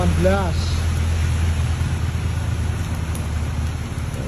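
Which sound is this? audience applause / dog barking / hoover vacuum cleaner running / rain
rain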